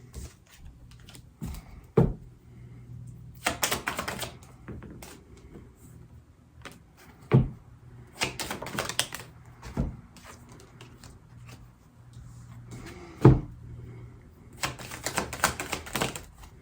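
Tarot cards are shuffled in quick, crisp bursts of riffling and tapping, several separate rounds spread across the stretch with quiet pauses between them, close and clear with no talk.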